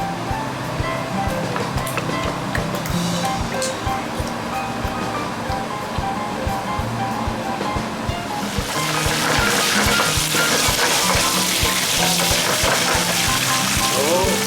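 Garlic sizzles in olive oil over a high flame, a steady crackling fry that turns louder and denser partway through, with music or background sound underneath.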